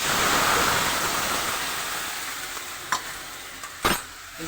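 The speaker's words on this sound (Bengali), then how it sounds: "এবার আমি জলটা দিয়ে দেবো" Water poured into a pan of frying vegetarian jackfruit curry, giving a loud rushing hiss and sizzle that slowly fades, then a couple of sharp clinks of a utensil against the pan near the end.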